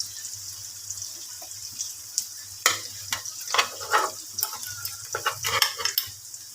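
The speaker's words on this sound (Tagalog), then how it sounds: "Inenex na natin ang isda." Vegetables sautéed with previously fried fish are stirred in a pan, with steady sizzling and frying under repeated scraping and clattering strokes of a utensil against the pan.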